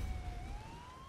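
A police car siren from the game GTA IV wails steadily, its tone sliding slowly upward, loud and alone.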